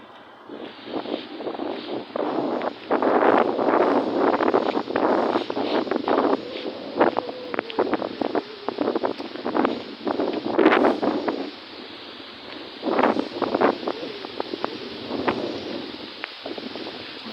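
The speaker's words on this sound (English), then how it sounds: "Very windy today as well." Strong wind in Treptower Park, Berlin, buffets the microphone in loud, gusting roars that rise and fall for a long stretch.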